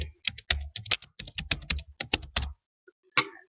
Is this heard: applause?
no